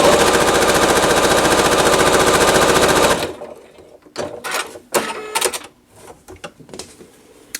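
A sewing machine runs fast and close, stitching a quarter-inch seam on quilt squares in a loud, even mechanical chatter for about three seconds, then stops, followed by scattered handling clicks and rustles.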